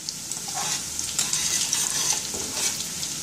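Small pieces of spicy popcorn chicken fry in a pan, a dense continuous sizzle with crackling pops, close and steady, nobody talking.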